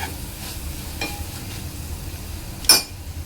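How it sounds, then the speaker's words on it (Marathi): Masala fries in released oil in a pan for a mahua fruit bhaji, giving a steady close sizzle broken by a few soft spoon scrapes and one sharp metallic clink on the pan. "2 ते 3 मिनिटांनंतर आपल्या मसाल्याला चांगलं तेल सुटत चाललेलं आहे।"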